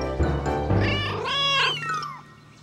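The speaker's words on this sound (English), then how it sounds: "Oh, my poor kittens. They're all back." Cartoon kittens meow in several drawn-out, rising and falling cries, loud and close, with some overlapping.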